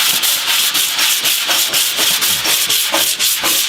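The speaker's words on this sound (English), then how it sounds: "you can just take a block and a sandpaper, and you want to go in a crosshatch" Rhythmic rasping strokes of a sanding block with sandpaper worked in a crosshatch over a dented 1959 VW Beetle body panel, steady and close with no talk.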